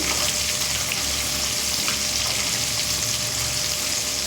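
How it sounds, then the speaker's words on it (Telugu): Fish pieces frying in a pan over a medium flame give a loud, steady, bright sizzle that runs unbroken throughout, with no talking. "ఇంతకుముందు చేసిన విధంగానే మీడియం ఫ్లేమ్లో పెట్టుకొని ఫ్రై చేసుకుంటున్నానండి"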